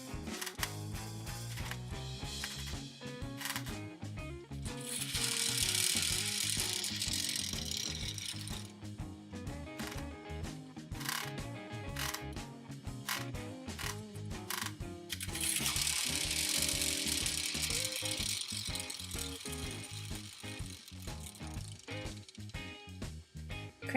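Winding crank of a Hot Wheels Speed Winders Torque Twister toy car powered by rubber bands, a steady plastic ratcheting clicking that runs continuously and close, with louder bursts of winding about midway and again later.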